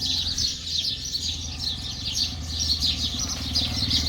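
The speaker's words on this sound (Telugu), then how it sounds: "పిచ్చుకల సౌండ్ అయితే మంచి వస్తుంది గైస్" A flock of sparrows chirping nearby, dense overlapping high twitters going on continuously over a low background rumble, with no voices.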